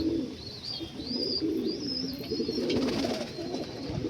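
Malwai pigeons offered for sale coo repeatedly nearby, soft rounded low calls in a steady rolling rhythm, with faint higher chirps and light background noise.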